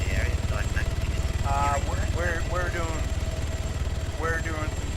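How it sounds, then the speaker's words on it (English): A helicopter's rotor thuds in a steady, loud pulse overhead for the whole stretch, while people talk over it. "Could we ask the helicopters to move away from the area"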